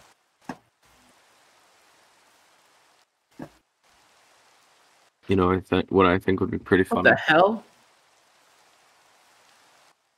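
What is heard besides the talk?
rain in the video game Minecraft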